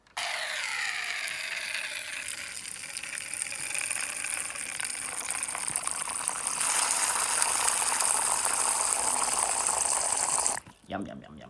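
A hose pipe sprays water for watering tarantulas, a loud steady hiss and gush that starts abruptly, runs for about ten seconds and cuts off near the end.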